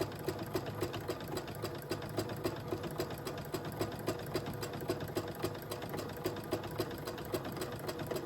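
A sewing machine doing free motion embroidery on a bicycle appliqué, running with a steady rapid rhythmic stitching whir throughout, fairly quiet and close, with no speech.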